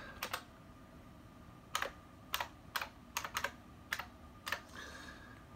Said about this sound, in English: Put in my password, and we'll go.